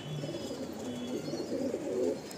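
A loft pigeon coos in low, throaty rolling calls that rise and fall continuously at close range, with no other sound on top.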